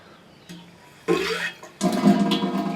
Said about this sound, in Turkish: Bak şimdi musluğa bak. Canavar gibi musluk ya.